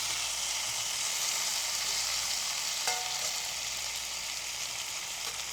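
Tomatoes go into mutton already frying in a pan for a Bengali-style mutton kosha, giving a steady close sizzle throughout with a brief stir-and-scrape sound near the middle and no talking.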